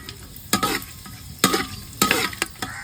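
Whole spices (cardamom, cinnamon, cloves and bay leaves) frying in hot oil for a khichuri tempering, a low sizzle punctuated by several sharp scraping stirs and clatters against the pan.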